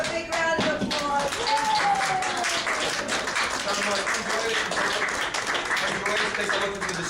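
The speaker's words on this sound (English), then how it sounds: "Give them a big round of applause." An audience applauds at an assisted living center, with scattered hand clapping of moderate density that runs steadily for about seven seconds under overlapping voices and chatter.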